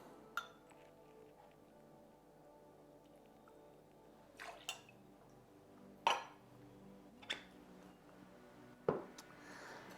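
Ice cubes clinking and knocking into a glass while making a chocolate Negroni at home, a handful of sharp separate clinks over a few seconds, close and fairly quiet against a soft background.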